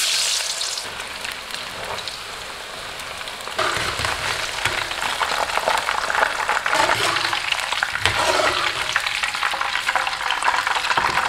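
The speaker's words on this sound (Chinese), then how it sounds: "咱先把它给过油炸一遍" Lamb ribs deep-frying in hot oil give a steady, dense crackling sizzle throughout, quieter at first and growing louder and busier after a few seconds, with no talking.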